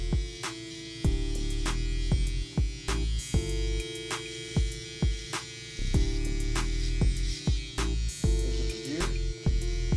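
Electric hair trimmer buzzing steadily at close range while cutting a bald drop fade, with short breaks and repeated clipping passes over the scalp.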